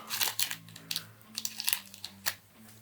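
A knife cuts through packing tape on a heavily taped parcel of coins, giving quick crackling rips and crinkles in short bursts over a low steady hum.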